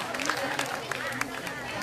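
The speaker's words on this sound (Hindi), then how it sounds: "हाँ, इनके लिए भी जोरदार ताली बजाना।" An audience claps at a religious Bhagavat katha gathering in Noida. The applause is a diffuse crowd sound with scattered claps, fairly faint and mixed with voices.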